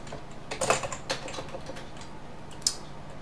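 Keystrokes on a computer keyboard while entering a username during an Ubuntu MATE 17.10 installation, a short irregular burst of close clicks followed by a lone tap after a pause.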